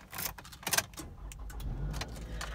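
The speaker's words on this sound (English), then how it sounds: "I'm going to start up the vehicle for you." A 2010 Toyota Matrix XR cranks and its engine catches, settling into a steady low idle rumble after a few brief clicks and rattles near the start.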